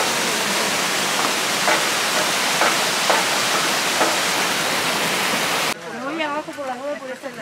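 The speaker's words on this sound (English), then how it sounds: "The waterfall is just up here." Waterfall in Tierra del Fuego National Park near Ushuaia, a steady broadband roar of falling water for most of the clip, with crowd voices faintly present, then cut off abruptly and replaced by a close voice speaking.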